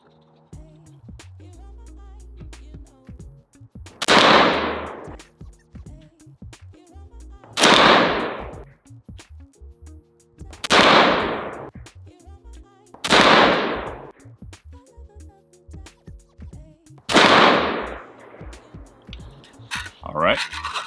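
Five loud, sharp AR-15 rifle shots fired from a BCM Enhanced Lightweight barrel with match ammunition, spaced a few seconds apart, each with a ringing decay over low background hum.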